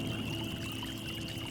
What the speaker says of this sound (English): The creek nearby hums softly